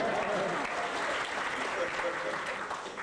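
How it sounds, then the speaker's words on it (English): Audience applause at a live cast reading of The Simpsons, a dense steady wash of clapping filling the room, with some voices mixed into the crowd noise. "Applaud for Mark again"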